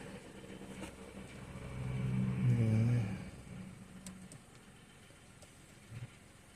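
Cabin of a 2023/24 Chevrolet Montana with a 1.2 turbo three-cylinder engine at about 21,000 km, carrying an unwanted engine noise: a steady low drone that swells into a louder, deeper hum for a second or so before easing back.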